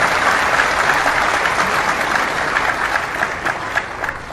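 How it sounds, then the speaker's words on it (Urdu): A large audience applauds during a religious sermon, with loud, dense clapping that holds steady throughout. "یہ تو دکھ والی بات پہ تم نے تالیاں بجائی ہیں۔"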